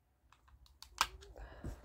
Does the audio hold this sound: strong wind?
no